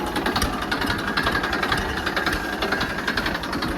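Tractor engine running in a village setting, a close, steady throbbing rumble with rapid knocking pulses, loud and continuous with no talk over it.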